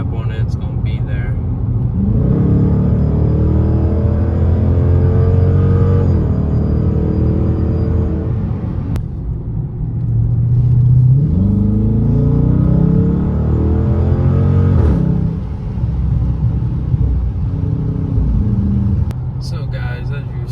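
A Dodge Charger R/T engine pulling under throttle on the road, heard from inside the car as a low droning rumble whose pitch rises and falls with repeated acceleration, while someone talks over it.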